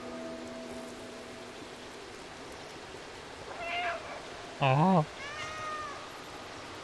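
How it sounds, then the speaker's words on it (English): A cat in the Stray video game on PC lets out one loud, close meow midway, with fainter mewing just before and after, all over a steady hiss like rain and a brief human exclamation. "I just like it when they meow."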